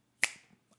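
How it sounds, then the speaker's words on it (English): A single crisp finger snap, close and fairly loud, with a brief fading tail and a faint small knock just after, otherwise quiet. "Snap with your finger"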